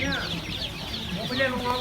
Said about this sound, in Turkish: Bakın şurada mesela Tayland tavukları falan var.